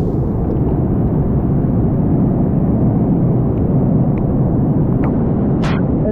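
A loud, continuous roar comes from storm water rushing out of a triple helix drain outfall during heavy rainfall, a dense and steady rumble close by with a few faint sharper sounds over it.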